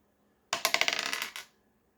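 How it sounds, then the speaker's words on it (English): Dice tumbling across a hard surface, a sudden clattering burst of rapid bounces and rattles lasting about a second before settling, close and loud against silence. "let's just roll the dice"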